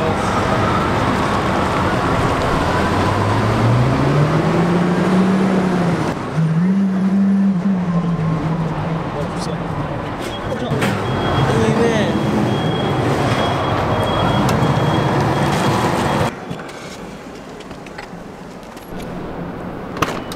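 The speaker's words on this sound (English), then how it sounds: "they're moving my car up and they're gonna put it in this position so that it has this ramp over here" A drift car, a Nissan Silvia, is moved up onto a truck ramp amid a continuous loud mechanical rumble and whine that rises in pitch for a moment, with people talking nearby throughout.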